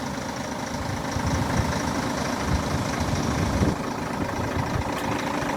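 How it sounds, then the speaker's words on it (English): The 286 horsepower Volvo engine of a 2000 Volvo B10M Van Hool T9 Alizee coach in a flight simulator, idling with a loud, steady, low rumbling throb and no speech. "The old 286 horsepower Volvo engine is driven through 6-speed manual gearbox."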